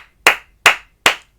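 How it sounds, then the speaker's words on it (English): Three sharp, loud hand claps in an even rhythm, spaced roughly 0.4 seconds apart, during an elementary music room rhythm-reading lesson, each a crisp isolated clap with silence between. "I need to clap"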